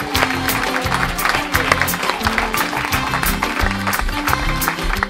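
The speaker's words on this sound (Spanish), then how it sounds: "Un aplauso para José Luis, el becario bebedor" Studio audience applause on a Spanish radio talk show, a dense steady patter of clapping lasting several seconds with a few scattered voices and whoops mixed in.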